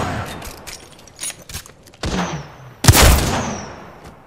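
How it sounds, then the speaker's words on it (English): Gunfire in Apex Legends striking the player: a few sharp broadband cracks early, then a loud heavy burst near the end that rings out and slowly decays. "They spotted me. I'm taking shots."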